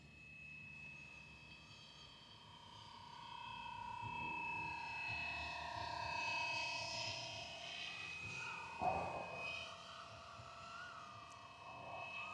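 A Fly Wing EC135 scale RC helicopter flies nearby with a steady high whine and rotor buzz that swells and fades as it moves around, heard alone without talking.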